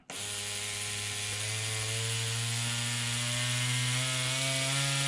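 An Evotattoo rotary tattoo machine motor runs continuously near the microphone, a steady electric whine with a buzzing hum whose pitch creeps slightly upward over five seconds.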